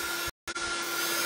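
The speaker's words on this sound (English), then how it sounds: "I'm going to give it a quick burst with my heat gun." A heat gun blows steady, loud hot air close by to dry watercolour paint, cutting out briefly partway through before resuming.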